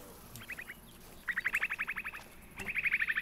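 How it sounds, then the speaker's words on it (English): A bird calls in the hunting game TheHunter: Call of the Wild on an African map, giving repeated bursts of rapid, bright chirping notes in three clear series, fairly close and loud against quiet ambience. "Oh, that's a weird bird call."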